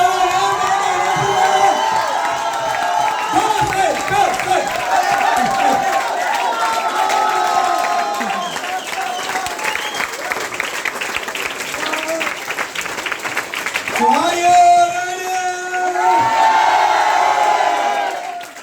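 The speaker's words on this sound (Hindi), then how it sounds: "जोरदार तालियां मार दो" Audience in a motivational seminar hall bursting into loud applause with cheering, whistles and shouts, dense and sustained throughout, with music-like tones and voices mixed into the crowd noise.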